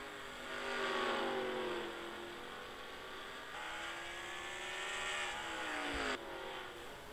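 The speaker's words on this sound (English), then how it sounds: "Bill Harrison trying to catch up to that 27 Heineken car driven by Caitlin Robinson, but gets into the outside wall yet again" Stock race cars roar around an oval track, engines droning and shifting pitch as they pass in a sustained, loud blur of motor noise.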